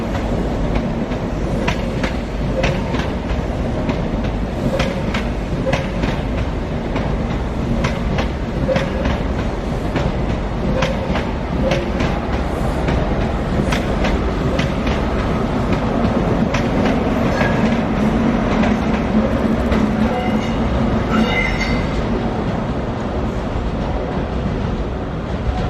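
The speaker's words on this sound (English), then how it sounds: "This train is formed of 3 coaches." A three-coach ScotRail passenger train runs on the rails in Scotland, with a loud, steady rumble and rhythmic clickety-clack from inside the train and a brief faint wheel squeal near the end.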